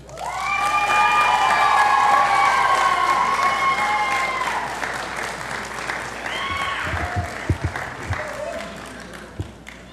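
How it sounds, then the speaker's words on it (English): A graduation commencement audience breaks into sustained applause and scattered cheering that swells, then gradually thins out, followed by a few isolated claps and bumps. "It is fitting for you to give them a round of applause."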